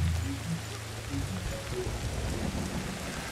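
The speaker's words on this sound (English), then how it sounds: "Let me get out of this fucking rain." Steady rain pouring down with low rumbling thunder in the jungle of Ancestors: The Humankind Odyssey, a constant wash of rainfall beneath deep, rolling booms, no speech.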